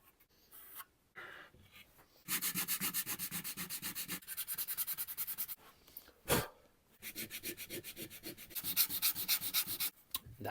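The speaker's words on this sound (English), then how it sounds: "You don't want any paint here when you're gluing it, so I'm going to have to sand it down." Sandpaper rubs paint off a guitar neck to bare wood before gluing, steady back-and-forth scratchy strokes in long close bursts with short pauses between them.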